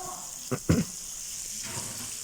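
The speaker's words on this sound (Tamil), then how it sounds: "இப்போ நல்லா டீப் ஃப்ரை ஆகட்டும்." Sardines deep frying in hot oil over a high flame, a steady broad sizzle running throughout with a couple of brief louder spits and pops early on.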